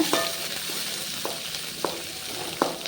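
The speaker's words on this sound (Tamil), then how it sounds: "இப்போ இதை நல்லா வதக்கி விட்டுக்குங்க" Onions with a little tamarind sautéing in a pan for a Madurai-style chutney give a steady soft sizzle, with a few brief spoon scrapes against the pan spaced about a second apart, close by and with no voices.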